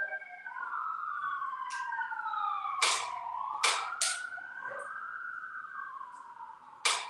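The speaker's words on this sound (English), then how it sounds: "always get the occasional sirens here and there" Emergency vehicle sirens wail outside, rising and falling tones from more than one vehicle passing by at moderate distance, with occasional sharp knocks or bangs nearby.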